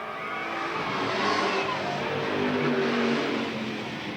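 Race cars accelerate hard on the oval at Eugene Speedway, a loud, sustained engine roar that swells and holds for several seconds under a commentator's voice.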